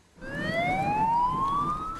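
A fire engine siren wails upward in one continuous rising tone, loud and close, responding to a burning coffee vending kiosk on a city street.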